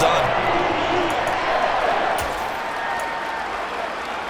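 Steady crowd applause and cheering inside a college football video game after a defensive stop, a continuous broad wash of clapping that eases slightly partway through, running under a play-by-play commentator's voice.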